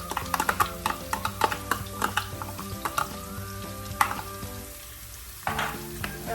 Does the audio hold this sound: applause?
no